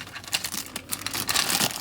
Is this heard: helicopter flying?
no